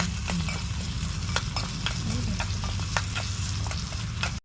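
Ginger garlic paste stirred and fried in a small pan for a miniature chicken curry, giving a steady close sizzle with repeated sharp scrapes and taps of a spoon against the pan, no talking.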